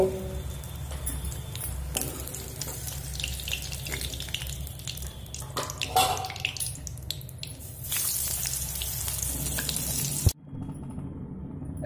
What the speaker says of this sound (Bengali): তো এবার আমি এই ভাজা কুমড়ো তুলে নেব আর একইভাবে বাকি কুমড়োগুলো ভেজে নেব।